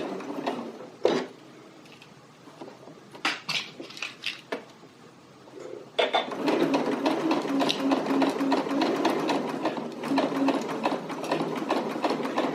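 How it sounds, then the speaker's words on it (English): A sewing machine stitches bias tape onto a garment facing, starting with a short back stitch. A few handling clicks come first, then a steady, close whirring run of stitching that continues to the end. "So let's get started sewing"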